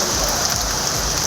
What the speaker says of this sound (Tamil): குத்தாலம், கோமல், மங்கைநல்லூர், திருக்கடையூர், தரங்கம்பாடி, செம்மனார்கோவில் உள்ளிட்ட இடங்களில் 1 மணி நேரமாக மழை கொட்டி தீர்த்தது.